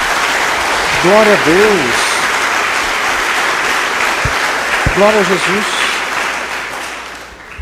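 A church congregation claps together in steady, dense applause through the whole stretch, while a preacher's voice calls out praise over it.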